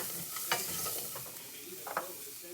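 Garlic sizzles in hot oil alongside browning rice for Mexican white rice, giving a soft, steady frying hiss with a couple of brief stirring scrapes, quiet and close.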